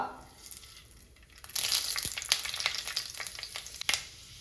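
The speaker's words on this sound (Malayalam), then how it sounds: "ഉലുവയും നന്നായി പൊട്ടി വന്നിട്ടുണ്ട്" Fenugreek seeds hit hot coconut oil for a Kerala-style sardine curry: after a quiet start, a bright sizzle rises, broken by sharp popping crackles close to the pan.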